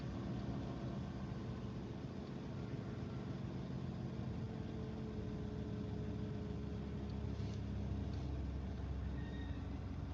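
A truck engine idling just after being started, a low steady rumble that stays even and fairly quiet for the whole stretch, with no talking.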